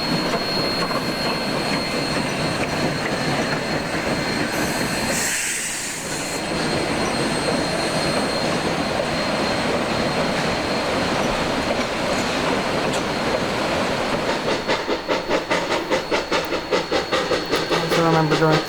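A steam train rumbles steadily past on the rails, loud and close, with wheel noise and a rhythmic clickety-clack building toward the end.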